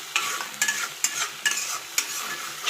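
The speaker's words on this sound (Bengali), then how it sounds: "মশলাটাও অনেকক্ষণ ধরে কষাতে হবে।" Spice masala being stirred and fried in a pan: rhythmic scraping strokes of a spatula, about five in quick succession, over a continuous close sizzle.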